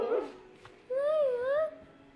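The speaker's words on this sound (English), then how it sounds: "is that a doggy?" A found pup gives a brief yip followed by a sustained, wavering high whimper up close, with a quiet room behind it.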